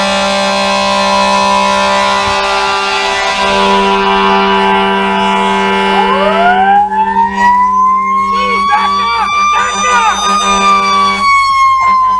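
Fire truck siren blaring close and loud, a steady tone shifting into a rising and falling wail, with horn-like blasts and traffic underneath.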